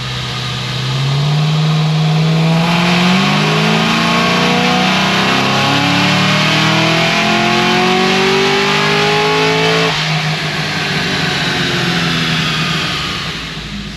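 An 800 hp Cadillac CTS-V running on 93 octane pulls hard on a dyno, its engine note climbing smoothly and loudly through the revs for several seconds. It peaks, drops off sharply and settles into a lower roar.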